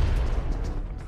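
A bomb goes off in a shooting video game, producing a dense, low rumbling boom that fills the whole brief moment at steady loudness.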